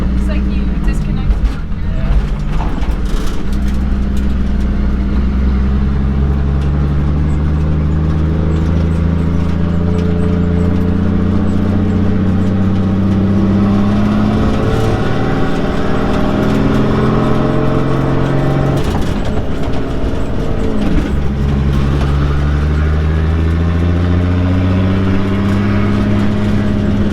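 A Datsun 280Z with a swapped-in Toyota 1JZ engine sits at a raised, steady idle, its low drone continuous and close throughout, with people talking over it.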